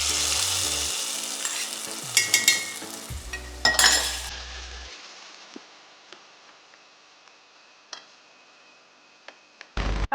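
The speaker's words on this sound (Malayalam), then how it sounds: "ഒരു സ്പൂൺ നെയ്യിൽ ഞാൻ അണ്ടിപ്പരിപ്പും മുന്തിരിയും ഒന്ന് വറുത്തെടുക്കാൻ പോവാണ്." Cashews and raisins fry in a spoonful of ghee in a home kitchen, a soft close sizzle broken by a few spoon stirs and light clinks against the pan.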